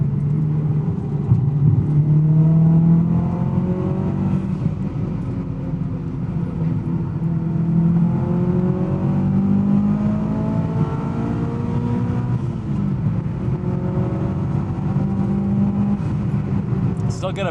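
A turbocharged 1999 Mitsubishi Lancer Evolution VI engine pulls hard through the gears. Rising pitch sweeps are cut by shifts, heard from inside under steady cabin noise, with a voice talking over it.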